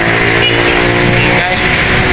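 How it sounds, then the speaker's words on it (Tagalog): Motorcycles and other road traffic pass along a busy roadside street at night, a steady loud engine rumble running throughout beneath a person talking. "ang ingay ng mga motor"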